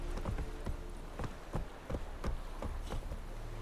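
Horse hooves clip-clopping in The Witcher 3: Wild Hunt, a run of distinct thudding hoof strikes at a steady, moderate pace, fairly close and fairly quiet over a low ambient game background.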